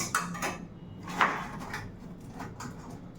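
Croutons for a Caesar salad clatter into a bowl in a few quick clinks and rattles, with a sharper knock in the middle, close and fairly quiet.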